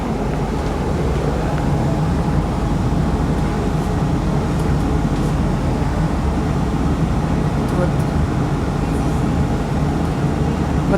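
Dubai tram rolling through a city intersection, a steady low rumble of rail and traffic noise running the whole time, with a voice talking over it.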